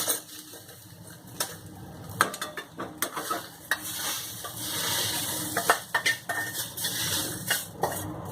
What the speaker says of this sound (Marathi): आता मी यात खोबरं भाजून घेते.